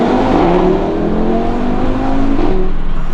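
A 2015 Audi RS3 Sportback in sport mode revs hard inside a tunnel. The engine rises and falls in loud, echoing sweeps from start to finish.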